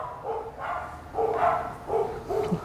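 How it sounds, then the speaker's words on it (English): A dog barks several times at close range in short, uneven bursts, some with a whiny, yipping edge, with no talk over it. "Yeah, dog."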